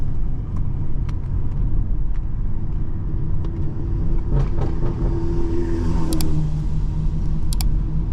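A BMW 440i drives along a road with steady low engine and tire rumble, and a few sharp thumps come as the tires roll over small metal road plates.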